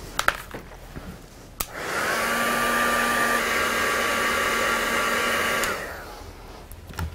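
A heat tool drying Cosmic Shimmer Lava Paste on a mixed media background, blowing with a steady whirring hiss for about four seconds, with a few light clicks and handling taps before and after.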